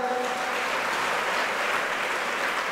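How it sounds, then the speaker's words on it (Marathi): Audience clapping at a birthday felicitation gathering, a dense, steady wash of many hands heard from the crowd, moderately loud and unbroken, with no talk over it. "मगर सरांसाठी एकदा जोरदार टाळ्या होऊ द्या."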